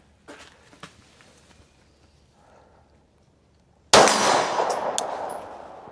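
A Glock 17 pistol shot rings off a steel gong target at an outdoor sportsman's club shooting range, one sharp loud clang with a long bright metallic ring-out, after a few quiet taps and handling sounds.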